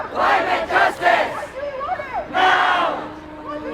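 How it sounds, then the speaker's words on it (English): Tens of thousands of climate marchers in Glasgow chant a rhythmic call-and-response slogan, a huge massed crowd roaring in bursts with shorter pauses and overlapping shouts between the chanted phrases. "That is the sound of tens of thousands of people gathering in Glasgow"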